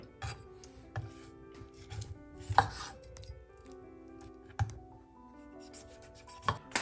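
A knife slices a banana lengthwise into strips on a cutting board, giving soft, close tapping chops and scraping rubs at a quiet level, with faint kitchen clatter and no speech.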